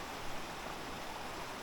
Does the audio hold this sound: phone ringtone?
no